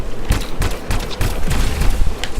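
Rapid gunfire in the video game Anthem, loud, close bursts of shots in an irregular rapid rhythm, with no voice over it.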